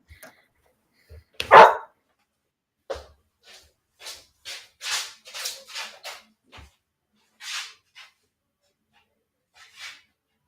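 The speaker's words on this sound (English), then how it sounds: "he's still barking" A dog barks in scattered bursts, one loud bark followed by a series of softer, irregular barks and snorts with quiet gaps between.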